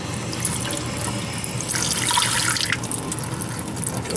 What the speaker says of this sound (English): Let's get some water here. Just let that run a minute.